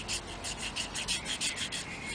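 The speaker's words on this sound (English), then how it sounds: "So we scrape this." Ferrocerium-style flint rod scraped along an edge, about ten short rasping strokes in a steady rhythm, close and fairly quiet with no talking.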